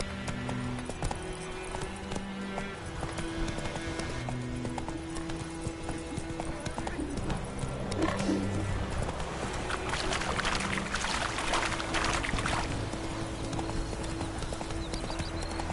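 Roach, a horse in The Witcher 3, gallops in a steady clip-clop rhythm of hooves, up close and continuous, over a bed of game music and ambience.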